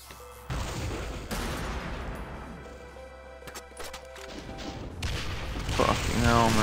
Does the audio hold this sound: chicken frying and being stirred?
no